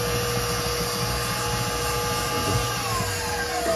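An electric hand mixer creaming butter and sugar for cornbread batter, a loud continuous motor whine with a steady buzzing hum throughout, close and unbroken.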